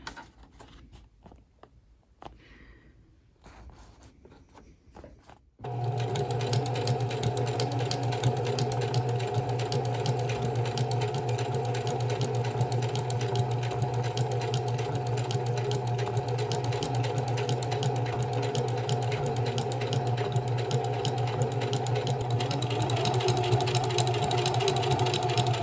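After a few seconds of near silence, a sewing machine starts running a decorative stitch down the centre of a handbrake and shifter gaiter for a 1936 Chevy coupe, giving a steady, rapid mechanical whir that continues evenly to the end.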